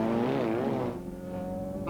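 Saloon racing cars, a BMW and three Ford Sierra Cosworths, roar past on the Phoenix Park road circuit, engines loud and close with a shifting pitch as they sweep by and fade.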